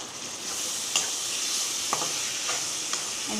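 Chicken pieces sizzle and fry in a pan with ginger garlic paste for a chicken kuzhambu, giving a steady loud hiss with a few clanks of stirring.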